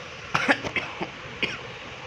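A few short, dry coughs come in a quick cluster and then one more after a pause, close to the mic over a low steady background hum.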